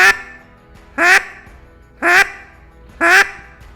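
A duck call imitating a mallard drake's quack, four loud, evenly spaced raspy quacks about one second apart, each short and nasal with no talk between them.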